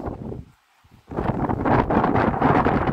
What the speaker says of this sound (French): Le gros problème c'est le vent.